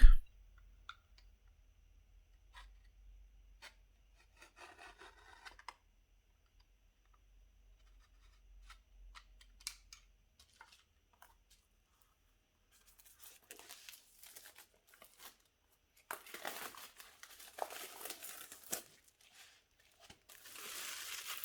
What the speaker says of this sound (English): So let's open the packaging.